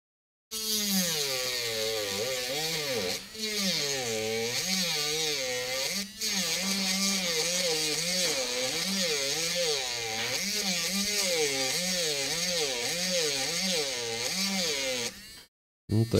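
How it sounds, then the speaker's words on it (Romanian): A power tool whines steadily as it cuts through the thin metal frame of an iPhone 13, its pitch wavering up and down as the blade bites, loud and close, with no talking. "și începem tăiatul"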